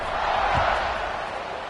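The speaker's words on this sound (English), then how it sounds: "this crowd is feeling themselves after that last drive" Football stadium crowd at a North Carolina State college game roars steadily at kickoff, a dense, sustained wash of cheering with no clear individual voices.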